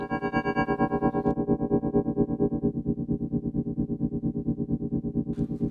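A sustained, buzzy synth tone from a stereo synth signal run through a low-pass filter, with a steady pulsing throb, its top end muted and dull, droning on alone without any voice.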